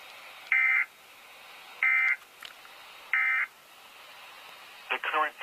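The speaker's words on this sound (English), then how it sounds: "This has been a test of the NOAA weather radio tone and same alert systems." A NOAA weather radio sends SAME alert tones during a test: three short, loud, evenly spaced buzzy data bursts, followed by a brief warbling tone at the end.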